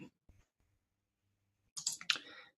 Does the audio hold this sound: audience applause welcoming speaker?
no